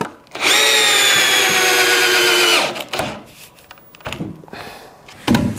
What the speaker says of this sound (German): Und dann schrauben wir das Ganze wieder zusammen.